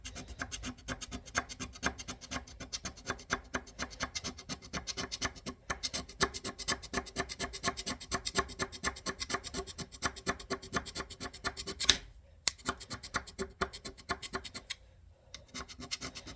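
A hand scraper undercuts the dovetail of a metal slide in quick, even rasping strokes, close and fairly quiet, with brief pauses near the end.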